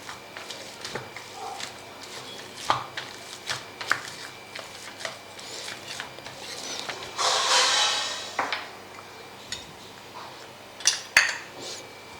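Boiled potatoes being crushed for vada pav, heard as soft irregular thuds, scrapes and clinks of a utensil against a bowl, with one longer rough scraping burst midway, close and moderately loud with no talk.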